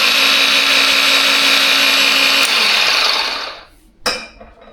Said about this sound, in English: you start the tool, there's a button, like literally like a lawnmower